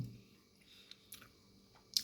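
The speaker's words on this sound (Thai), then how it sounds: "แล้วก็หอมของงาขี้มอนเคี้ยวแล้วกรุบกรุบ" Quiet close-up chewing of a soft, sticky sweet made with sugarcane syrup and crunchy perilla seeds, with faint moist squishes and a few small sharp crunchy clicks.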